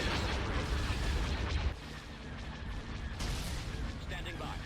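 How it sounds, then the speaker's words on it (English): Proton torpedoes streak toward a strike cruiser in a Star Wars space battle game, a dense, rumbling barrage of blasts and explosions that starts loud, dips briefly, then keeps churning on as continuous heavy fire. "Watch the proton torpedoes fly in towards the"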